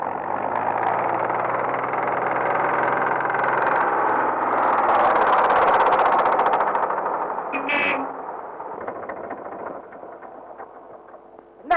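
An old car engine in a 1960s Tamil rural film scene runs with a steady, loud rumble for about seven seconds, then dies away with a brief sputter and fades into quieter background.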